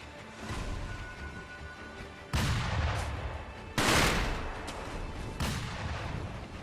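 Enemy gunfire in the Sekiro video game comes as heavy bursts of shots and booming blasts in three or four loud waves over a constant rumbling background.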